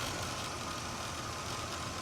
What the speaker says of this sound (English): But overall, the car runs really nicely. Idles smooth.